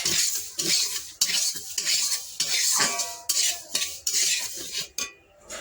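Broken wheat dalia is stirred as it fries in a pan, a spoon scraping and clinking against the metal in repeated rhythmic strokes, close and loud, with a faint sizzle beneath and no talk.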